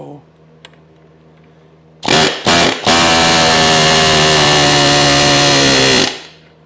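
A chisel is driven into a GM upper A-arm bushing. Two short loud bursts of harsh metallic rattling are followed by about three seconds of continuous, very loud, close-up chattering, then an abrupt stop.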